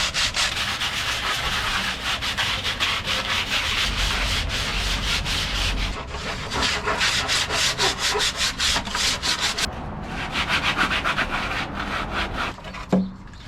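Rasp filing a piece of 2x6 lumber for a wooden bench, loud rapid rhythmic scraping strokes close up, continuous then in distinct repeated passes, no talk.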